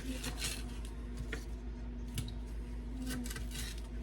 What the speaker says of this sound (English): So I'm just going to cut these into strips.